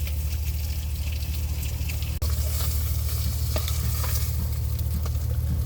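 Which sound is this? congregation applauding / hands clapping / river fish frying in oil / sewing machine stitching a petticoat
river fish frying in oil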